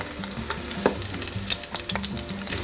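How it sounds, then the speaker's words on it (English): Eggplant slices, salted and drained, fry in oil inside a Ninja Foodi, giving a steady close crackling sizzle with scattered pops and light stirring scrapes throughout. "you hear that sizzling now?"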